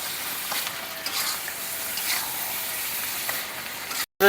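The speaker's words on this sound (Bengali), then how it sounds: "এবার এগুলোকে ভালো করে কষানো হবে, মশলা কষানো রান্না এঁচোড় চিংড়ি" Raw jackfruit and potato fry in spice masala for Bengali-style echor chingri, giving a steady close sizzling hiss with a few faint stirring clicks before an abrupt cut near the end.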